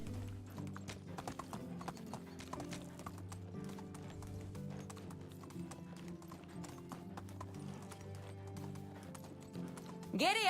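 Horse hooves clip-clop in a steady, brisk rhythm throughout as a rider travels a road in the medieval survival game Medieval Dynasty, with soft background music underneath.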